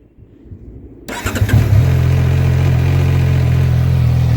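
A CFmoto 675SS motorcycle engine starts up after an oil change: a brief quiet cranking, then the engine catches with a few uneven revs before settling into a steady, loud, close idle.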